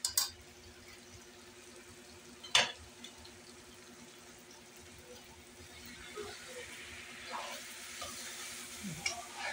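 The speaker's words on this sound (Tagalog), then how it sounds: "Dali mo i-mix kasi masusunugan ka." Adobo with potatoes being stirred in a frying pan: a faint, quiet sizzle under soft scraping and stirring, with one sharp knock early on and livelier utensil clatter toward the end.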